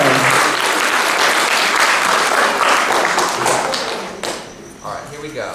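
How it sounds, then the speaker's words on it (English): A round of applause for students at an elementary school visual and performing arts awards ceremony: dense, steady clapping from a crowd that carries on for several seconds, then tapers off and thins near the end. "give a round of applause"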